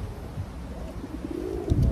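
A low, soft cooing of a pigeon over a murmuring background, rising toward the end.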